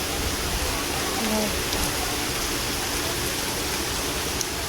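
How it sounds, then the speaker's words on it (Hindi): Heavy rain pours down steadily outdoors beside a water tank in a village lane, a dense continuous hiss of falling water that fills the whole scene at an even, moderate level. "यहाँ पे इतनी तेज़ बारिश हो रही है"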